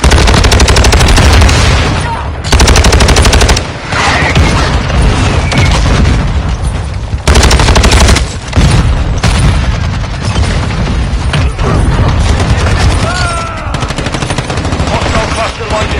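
Mortar strike explosions and heavy gunfire in the Call of Duty Modern Warfare 2 video game, loud booming blasts mixed with sustained machine-gun bursts, nearly continuous with brief lulls.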